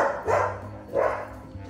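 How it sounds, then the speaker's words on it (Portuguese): An agitated dog barks twice, loud and close, with a short pause between the gruff barks and a low hum underneath. "o cachorro tá bravo, Cauê."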